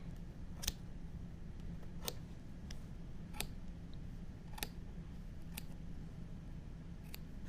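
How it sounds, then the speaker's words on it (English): Soft, crisp snips repeat at uneven intervals over a low steady hum, each cut short and quiet, as if yarn were being trimmed close by. "Take your scissors and cut away."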